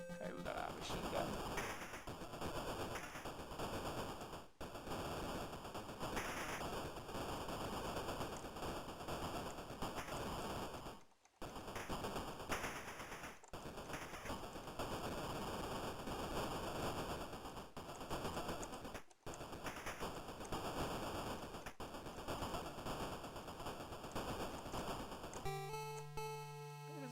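Machine gun fire in an Amstrad video game, a continuous crackling rattle that runs almost nonstop with a few brief gaps, ending with a short tonal game beep.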